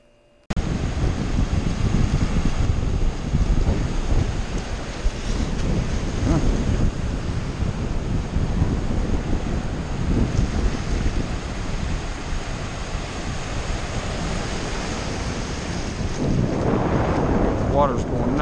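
Ocean surf and strong wind at a beach buffet the microphone continuously, a loud steady roar of crashing waves with no speech, building again near the end.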